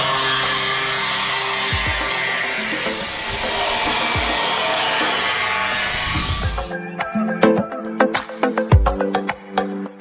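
A post is cut at a house roofing site in Thrissur, Kerala, with a loud, steady, rasping cut lasting about six seconds. It stops abruptly and is followed by sharp clanks and taps.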